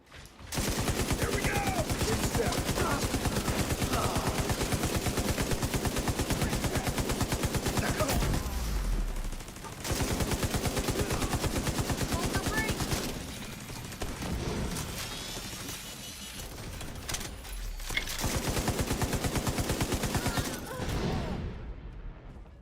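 Dense gunfire from The Division video game: long, loud runs of rapid automatic shots with brief pauses between bursts, close and continuous, with faint voices underneath.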